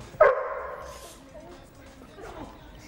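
A boxer dog lets out one sharp, close bark, followed by a few fainter yips and whimpers as the sound trails off, with quiet room noise behind.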